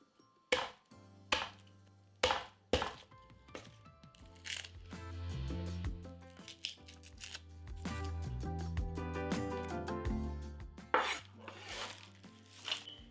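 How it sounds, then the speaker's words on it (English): A knife roughly chops garlic cloves on a board: several sharp, separate chops ring out over the first few seconds, then the cutting softens and continues under a fuller tonal background. "Give this garlic a rough chop."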